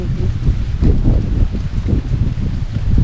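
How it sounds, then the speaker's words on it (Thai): Strong wind blows outdoors around a rural Thai home, buffeting the microphone with loud continuous low rumbling gusts that rise and fall throughout, with no talk. "บรรยากาศบ้าน ๆแต่ยินเสียงลมมาจ้า"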